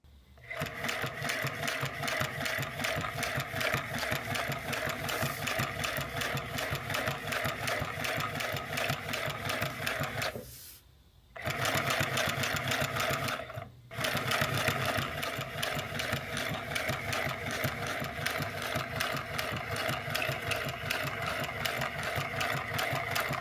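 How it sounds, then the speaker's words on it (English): A sewing machine double-stitches car interior upholstery for a Dodge Demon, running in steady, loud rapid bursts with two brief pauses partway through. "We're just gonna take that right down that line, get a nice double stitch."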